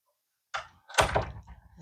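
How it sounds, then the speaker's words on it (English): Freshly rehung door pulled closed so its latch lines up, a soft initial bump followed by a solid, resonant thud of the latch seating, close-up with nothing else around it. "That is the sound of a latch that actually lines up."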